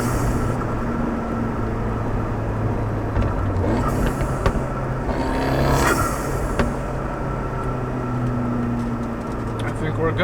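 A Fiat 124 Spider Abarth runs with a steady, loud exhaust drone and turbo whoosh swelling around the middle, heard close with people talking over the engine.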